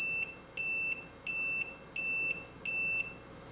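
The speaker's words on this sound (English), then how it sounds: "it's beeping to remind me that I may have forgotten I left it running" Five regular electronic beeps from a FitPC2 computer running in a car, each a steady high-pitched tone lasting about a third of a second, repeating every 0.7 seconds over a faint background hum.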